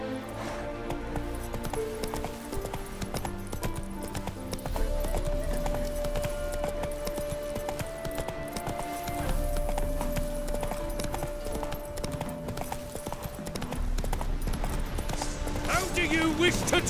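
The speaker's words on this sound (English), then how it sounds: "Whoa there, Roach" A horse gallops in The Witcher 3 next-gen gameplay, with steady, rhythmic hoofbeats running throughout under game music and voices.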